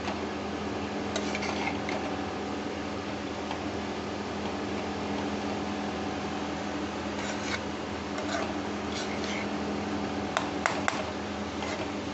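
Chopped chili, chili powder and spices are stirred into a cabbage cutlet stuffing, giving a steady soft rubbing and scraping with occasional sharp utensil clicks against the bowl, close and continuous over low background hum.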